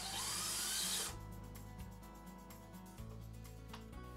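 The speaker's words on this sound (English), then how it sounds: "take out the 2 screws on top of the lock." A power driver whirs loudly for about a second while backing screws out of a vinyl window sash lock, followed by quiet clicks and light handling taps.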